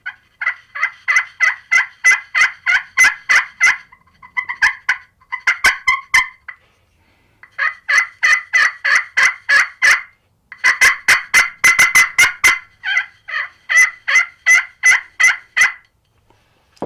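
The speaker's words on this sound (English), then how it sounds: "That's going to put a slightly roughed edge on our slate call, or on our striker, and we can come right in." Turkey yelps and clucks scratched out on a slate call with a freshly roughed striker, loud close runs of rapid rhythmic notes in several series broken by short pauses.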